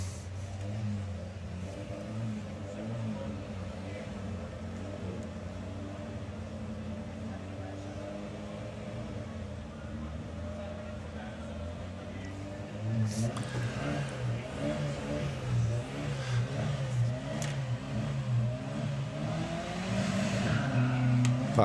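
A 1970 Porsche drag car at a Bug Jam drag racing event: a steady engine drone that swells louder partway through, heard under an announcer's commentary.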